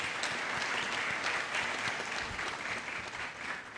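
Steady audience applause fills the hall for the two speakers at a founder's week celebration, many hands clapping at once in a continuous, fairly loud wash with no break.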